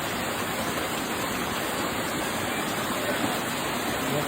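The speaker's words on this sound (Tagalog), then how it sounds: "Lagyan natin ng tubig." Water pours steadily into a cooking pot for milkfish soup, a continuous rushing splash that stays even and moderately loud throughout with no talking.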